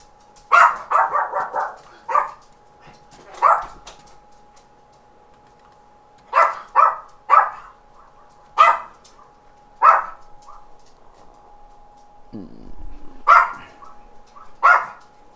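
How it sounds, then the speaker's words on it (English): Several dogs barking in short bursts, some quick volleys of yaps and several spaced single barks, fairly close and loud, with a faint steady hum beneath and no one talking. "That's my dogs."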